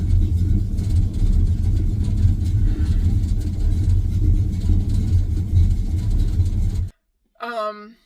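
A loud, low engine rumble from a vehicle driving steadily, cutting off abruptly near the end, followed by a brief voice.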